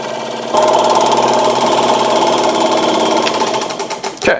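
Brand new saw blade cutting a resin and wood ring blank, starting abruptly with a loud, fast buzzing rattle that runs steadily and then wavers as the cut ends.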